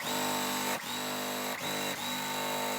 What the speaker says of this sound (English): what I'm going to do now is just kind of sew this as a 4 patch